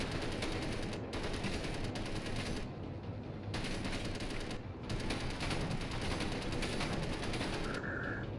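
Sustained bursts of automatic machine-gun fire in Space Engineers, a dense rapid rattle in several long volleys separated by brief pauses, loud and continuous with no voices.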